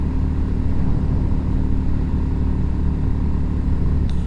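Royal Enfield Classic 350 single-cylinder engine pulling steadily up a 13% incline near 50 in the power band, a continuous loud low rumble with wind noise and a brief rattle near the end.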